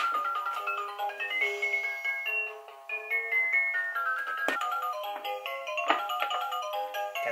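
A baby toy plays a bright, tinkling electronic melody, note after note in a steady tune, moderately quiet and alone without talk.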